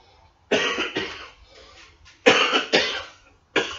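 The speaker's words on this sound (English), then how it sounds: "Excuse me for the cough, smoker's cough." A smoker coughs in several harsh, rasping bursts, two pairs separated by short pauses, close to the listener.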